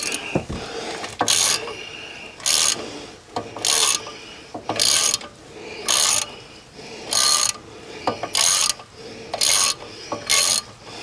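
A ratchet fitted with a large socket loosens bolts on a Rover 75 Tourer's brakes, its loud, close clicking arriving in about eight regular bursts of roughly half a second each.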